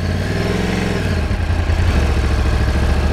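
A Lamborghini Aventador supercar engine rumbles loudly and steadily nearby, a deep droning note with a shifting pitch, heard from a Yamaha R1 motorcycle ride with wind and the bike's own engine mixed in.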